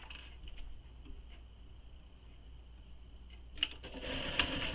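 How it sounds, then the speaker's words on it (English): A sewing machine stitches the top edge of a fabric satchel. Its quiet steady whir comes with faint clicks, then a louder burst of rapid stitching near the end, and no speech is heard. "So I'm going to sew that top edge."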